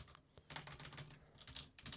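Rapid typing on a computer keyboard while searching for camping icons, a dense run of quiet clicky keystrokes heard alone without voices.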